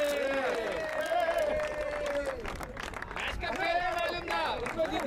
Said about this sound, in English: So please give a round of applause to champions.